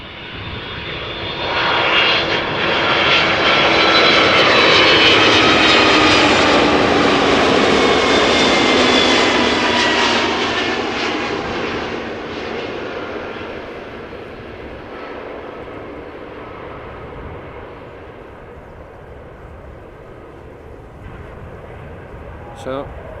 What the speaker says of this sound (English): touching down after an hour and 54 minutes of flight, this A300 600 RF